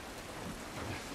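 Steady rain pours outdoors in the video game The Last of Us Part 1, a dense, even hiss with low rumbling underneath, fairly faint and continuous with no voices.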